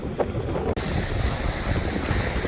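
Gusty wind buffeting the microphone over waves washing onto a Lake Erie beach at Headlands Dunes State Park, Ohio, a loud, continuous roar with a brief dropout partway through, no talk.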